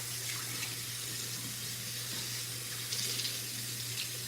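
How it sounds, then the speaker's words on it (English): Tap water runs steadily into a sink, a quiet continuous hiss and splash as the flow is adjusted warmer, with no talking over it. "I'm gonna go to a little bit warmer water."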